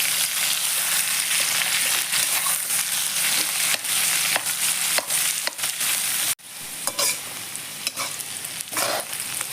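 Pirandai (adamant creeper) sautés in a pan with a continuous close sizzle and frequent scraping, clattering stirs of a spoon, briefly cut off midway before the frying and stirring carry on.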